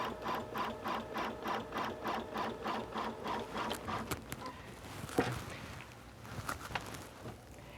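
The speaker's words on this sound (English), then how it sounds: "then it will stitch the rest of this design in the exact location that you need it to be to make the all-over embroidery design" An embroidery sewing machine stitches a design onto fabric with stabilizer, its needle hammering in a steady rapid rhythm that later turns busier and less regular, close and moderately quiet.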